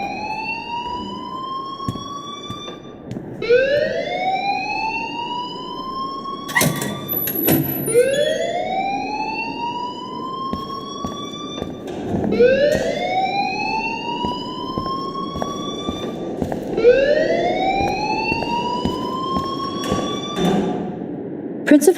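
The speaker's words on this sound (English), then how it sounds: "please turn off that alarm since that's your job" Wailing alarm siren in the video game Life is Strange, rising sweeping tones repeating about every four to five seconds, loud and insistent, with a few dull thumps in between.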